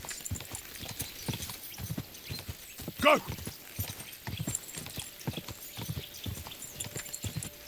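Horse hooves clip-clop steadily along a road in Kingdom Come: Deliverance II, a brisk regular gait heard close, with a short shouted command partway through and light game ambience beneath.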